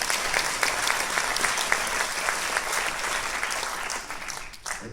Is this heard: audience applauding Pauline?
yes